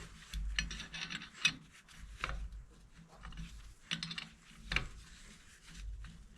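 Quiet ratchet clicking and metallic rubbing while bolts are taken out of a wood boiler pump, in short irregular bursts with pauses between, close by and fairly faint.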